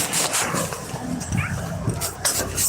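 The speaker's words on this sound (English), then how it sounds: "My pup likes to talk to me too." A pet husky named Oliver whines, yips and grumbles in short bursts at close range, his vocalizing mixed with a person talking.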